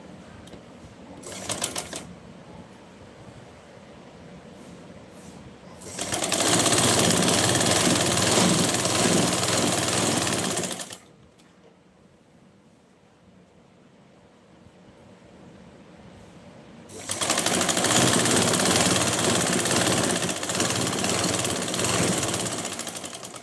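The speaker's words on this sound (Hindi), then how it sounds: "ऐसे यहाँ से मिलाते हुए हम फिर से आधे इंच की दूरी पर मार्जिन देते हुए सिलाई लगा देंगे नीचे तक" A sewing machine runs in two sustained bursts of steady, loud motor whir while stitching a patiala salwar seam with a half-inch margin, separated by a quieter pause with faint handling noises.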